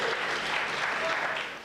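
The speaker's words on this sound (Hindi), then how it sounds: "2 तालियां बजाओ भाई।" Audience clapping at a Hindi comic poetry gathering: a loud, continuous patter of many hands that carries through and tapers off at the very end.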